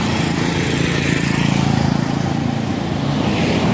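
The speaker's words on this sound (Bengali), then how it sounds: "আর এই হচ্ছে ফ্রন্ট সাইডের রাস্তা।" Street traffic out front of a residential building drones loudly and constantly as a steady engine rumble close by, with no distinct passes.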